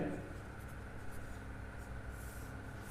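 Steady scratching of a pen writing on paper, close and continuous at low level under faint background hiss, with no talking.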